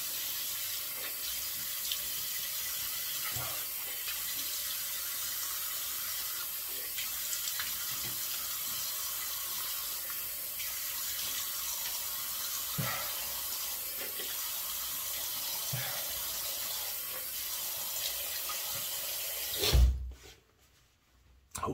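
Water runs from a tap into a sink before a shave, a steady close splashing stream that continues for about twenty seconds before a brief thump and cutoff near the end.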